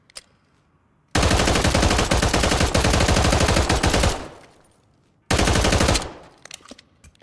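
A video game weapon fired in rapid bursts using the mouse scroll, producing a long dense stream of gunshots followed by a shorter second burst, loud and close with brief silence between.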